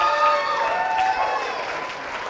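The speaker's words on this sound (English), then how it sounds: "once again, a nice round of applause for Father of the Bride" Wedding guests applaud together in a sustained round of clapping at the reception, fairly steady and moderately loud throughout, with faint voices mixed underneath.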